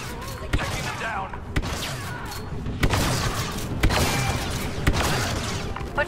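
Blaster gunfire rattles through a Star Wars Battlefront 2 battle, with sharp shots landing roughly once a second over a dense, noisy backdrop of combat and voices.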